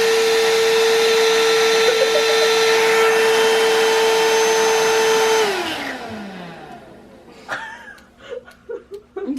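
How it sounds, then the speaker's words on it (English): A vacuum cleaner runs with a steady, loud motor whine, then is switched off and winds down with a falling pitch, followed by laughter and voices. "Vacuum, please."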